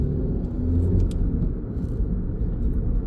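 A 2018 Suzuki Ignis 1.2 Dualjet SZ-T with 81k miles pulls away on a road near M1 junction 30, shifting from first into second gear; a steady low engine rumble heard from inside the cabin, with no talking.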